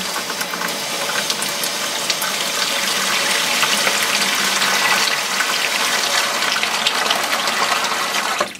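Hot tap water gushes steadily and loudly into a container while a premium red wine kit is being prepared, a continuous rushing fill with no talking.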